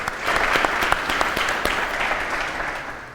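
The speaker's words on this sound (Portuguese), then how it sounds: "Merece uma salva de palmas." An audience at a firefighters' talk gives a brief, steady round of applause, close and even, with sharp individual claps standing out from the dense patter and no voices over it.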